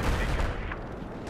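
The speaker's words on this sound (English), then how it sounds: "That's a DMR." Rifle fire from a DMR in a multiplayer shooter, a dense burst of loud shots opening the moment and then thinning into a rumbling, busy battle din with no talk.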